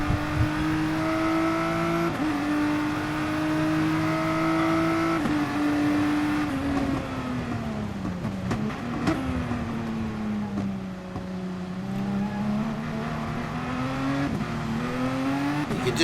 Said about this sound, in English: You can just hear the short shifting on the GTR just to really minimise that wheel spin